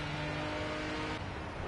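Race car engine in the Project CARS video game drones at a steady high pitch on warm tyres, loud and continuous, easing briefly near the end, with no voices.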